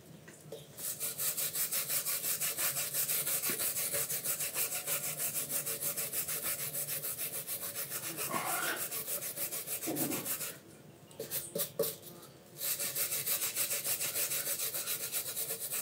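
Cleaning the EGR pipe mating surface on a Mitsubishi Montero during a head gasket repair makes steady rapid back-and-forth abrasive rubbing and scraping, close and continuous, with a few brief pauses and no talk.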